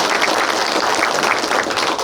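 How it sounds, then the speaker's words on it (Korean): An audience at a Chilgok County office gathering in Dongmyeon applauds steadily, a dense, even wash of many hands clapping at close range with no talk over it. "박수 한번 주십시오"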